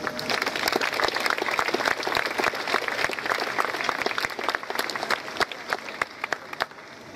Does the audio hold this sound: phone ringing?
no